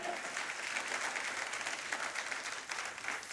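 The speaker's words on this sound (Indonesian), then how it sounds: "Mari kita sekali lagi beri tepukan yang paling gemuruh." Church congregation applauding at a harvest thanksgiving service, a dense, steady wash of many hands clapping together, fairly even in loudness throughout with no clear speech over it.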